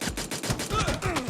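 Rapid pistol gunshots crack from a video game, a fast, steady burst of loud, close shots packed tightly together with no pause.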